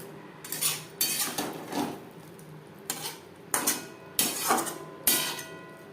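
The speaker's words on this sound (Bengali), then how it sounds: "মাছ বেশ ভালো করে মিক্স করে দেবো" Small mourola fish stirred into gravy for a low-oil chorchori in a cooking pan: a spatula makes repeated scraping, clinking strokes, close and fairly loud, with short pauses between them.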